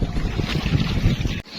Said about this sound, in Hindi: ये ट्रैक्टर जो है ना, ये इस जमीन को तैयार कर रहा है।